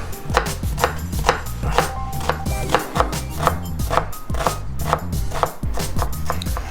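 A knife mincing onion and garlic on a cutting board makes fast, steady chopping taps, loud and close, with no talking.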